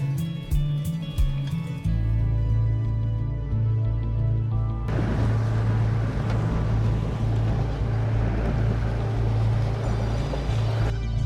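A 4x4 vehicle pushes through water on a rough track near a mountain lake, its engine droning loudly and steadily while water churns and splashes around it, growing noisier partway through.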